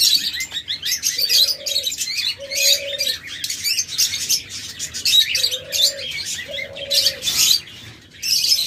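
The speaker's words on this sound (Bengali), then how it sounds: "অসংখ্য পরিমাণ ডায়মন্ড ডাব রয়েছে বিভিন্ন মিউটেশনের ডায়মন্ড ডাব রয়েছে" Diamond doves in a bird-sale aviary give four soft, drawn-out coos at intervals over a busy background of many small birds chirping and tweeting nearby.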